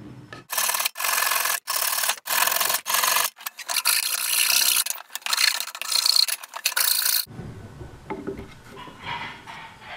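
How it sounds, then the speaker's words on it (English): Hand-carving heartwood into a two-inch cylinder for a crossbow bolt holder gives loud, close rasping strokes, first in quick separate bursts, then in longer continuous scraping, before easing into quieter work. "Now I'm going to take the heartwood and carve it into a 2-inch diameter cylinder to fit into the hole."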